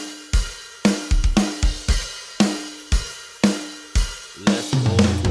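Drums from the GGD Invasion plug-in, a steady groove of sharp kick and snare hits with cymbal wash, a tight repeating pattern building into a busier fill at the end.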